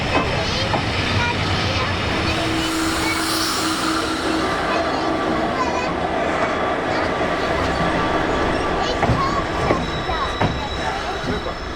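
A train passes slowly through Colchester Town station with the steam locomotive 60163 Tornado, a steady rumbling roll with squealing and clanking, while people talk nearby.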